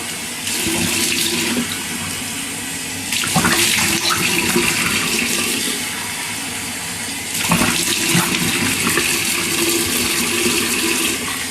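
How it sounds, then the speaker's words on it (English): Running tap water splashes steadily and loudly while someone rinses their face at a bathroom sink, with two brief surges in the flow and no talking. "I'm going to quickly rinse it underwater, shut that off, and then I'm going to take water and rinse my face off."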